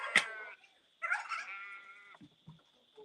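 A goat or sheep on a homestead gives two drawn-out, wavering bleats close by, with short animal grunts after them and quiet between the calls.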